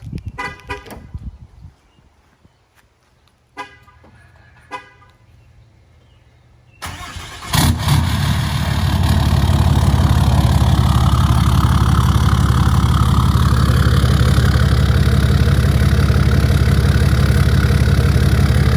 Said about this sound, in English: let's do a cold start for you.